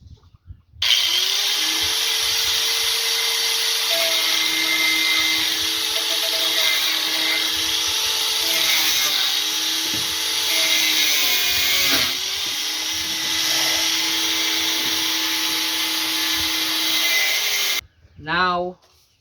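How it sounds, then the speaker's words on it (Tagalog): An angle grinder cuts through a pipe while building an auto-feeder for a flock of poultry, a loud steady high whine running almost nonstop, dipping briefly before stopping near the end. "Now we will start cutting it with an angle grinder."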